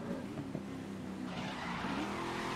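Race car tires skid and squeal as the car misses a curve in the racing video game Grid, a loud continuous engine-and-tire roar with rising screech, alone without talk.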